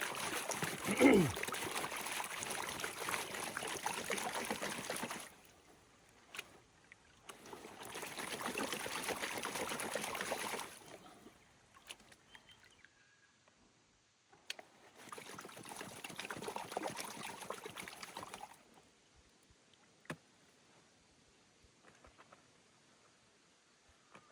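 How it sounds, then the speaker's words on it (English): Clay and water sloshing and trickling in a gold pan comes in three long bursts of swirling, with quiet pauses between them and a few soft knocks. "it's actually quite easy to pan because it loosens up very quickly"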